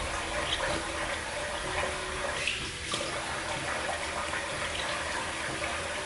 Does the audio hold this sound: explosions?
no